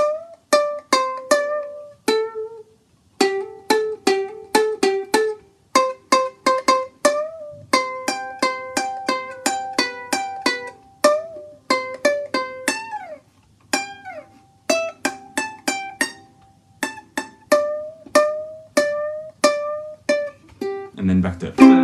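A small, bright soprano ukulele, played without distortion, plays a clean, quick melody of plucked notes and strummed chords, steady and close, with brief pauses between phrases.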